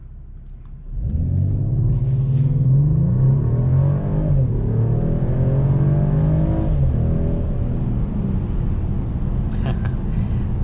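A 2021 Mercedes-Benz E450 All Terrain wagon in Sport Plus mode launches hard from a brake boost, its engine rumble jumping up and climbing through rising revs and a gear change, loud from inside the cabin.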